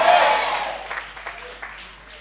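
A church audience claps in a brief, fading patter of applause, with a few scattered louder claps trailing off into quiet.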